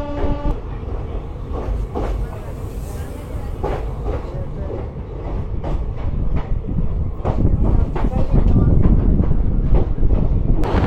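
Passenger train running near Bishnupur in Bankura, a steady loud rumble with rhythmic clicks and wind buffeting the microphone, building slightly toward the end.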